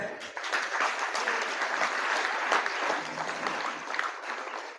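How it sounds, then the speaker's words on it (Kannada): A school audience at a Constitution Day event claps loudly and continuously, a steady dense patter of many hands with a few voices mixed in. "ಜೋರಾಗಿ ಚಪ್ಪಾಳೆ."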